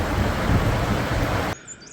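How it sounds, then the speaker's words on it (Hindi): Heavy monsoon rain and swollen mountain streams in the Uttarakhand hills make a loud, dense, continuous roar that drops away suddenly after about a second and a half. "बड़े बड़े गधेरे आ गए हैं और आवाज़ सुन सकते हैं आप"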